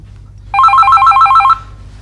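A telephone rings once in a home, a loud electronic trilling burst lasting about a second over quiet room hum, with no talk.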